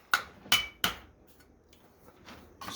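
Copper pipe is hammered on the horn of an anvil, three sharp ringing metallic strikes in quick succession followed by softer taps, close and bright.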